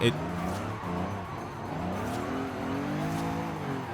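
A low-horsepower car in Forza Horizon 5 cruises with a steady, close engine drone whose pitch wavers gently as it revs and shifts, while someone talks over it.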